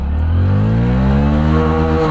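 A Hero HF Deluxe Pro 100cc motorcycle accelerates hard, its small single-cylinder engine droning loud and close, pitch climbing smoothly and continuously with no talk over it.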